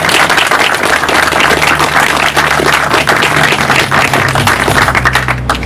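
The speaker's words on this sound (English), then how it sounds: "please give them a big round of applause" Loud, sustained applause from a crowd honouring trustees of the Harlow Health Centre Trust at the opening of the new Lister House surgery in Harlow, with dense clapping running steadily for the whole stretch.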